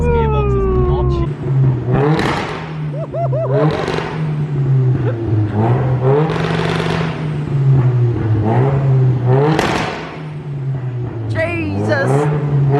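Nissan SR20-engined car accelerating hard through quick first and second gear shifts with double clutching, engine revs rising and dropping repeatedly, loud and close with a steady drone underneath, people talking over it.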